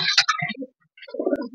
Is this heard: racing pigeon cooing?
yes